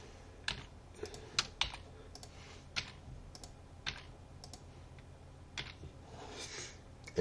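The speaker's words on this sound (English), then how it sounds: "To do that, you just select the cell and type the letter." Letters typed into a crossword grid on a computer keyboard: sparse, irregular single key clicks, close and moderately quiet, with pauses between presses and no talking.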